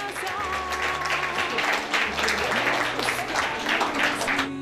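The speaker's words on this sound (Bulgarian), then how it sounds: "Ваши аплодисменты, друзья!" Audience applause at a televised award ceremony, a steady wash of clapping throughout with music and an announcer's voice running underneath.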